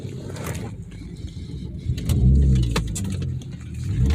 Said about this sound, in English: As you can see, I'm driving now.